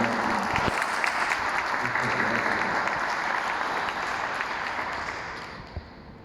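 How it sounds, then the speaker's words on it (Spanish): A crowd claps steadily in dense, sustained applause at a lecture in the Government Palace, Veracruz, gradually fading toward the end, with a few scattered voices mixed in. "para quien pido un fuerte aplauso"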